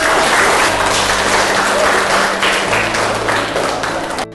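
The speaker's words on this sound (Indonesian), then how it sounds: "Tepuk tangan untuk kita semua." A classroom of students claps together, a dense, lively burst of many hands at close range that stays strong before tapering off at the end.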